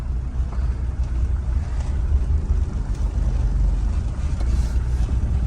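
An old Mercedes, back on the road after 15 years, drives along after shifting into gear, a steady low engine rumble with road and wind noise filling the cabin at constant loudness.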